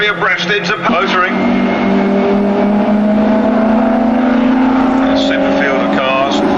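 Alfa Romeo race cars of the Dutch Trofeo series lap Brands Hatch, their engines a steady, loud droning roar. A commentator talks over the engines throughout.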